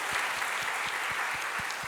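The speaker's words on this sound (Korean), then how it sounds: "우리 부활하신 우리 주님께 큰 영광의 박수로 먼저 영광을 올려드리겠습니다." A church congregation applauds on Easter Sunday morning at a worship service: continuous, fairly soft clapping from many people, with a faint low rhythmic thump repeating underneath.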